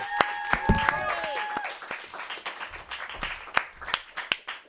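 Applause and clapping from a comedy show audience after a performer leaves the stage, with sharp scattered claps over a crowd murmur and a voice briefly heard at the start.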